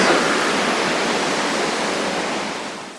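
Rushing water at Hogenakkal Waterfalls on the Karnataka–Tamil Nadu border, a loud, steady broadband roar close by that holds throughout and fades slightly at the end, with no talking.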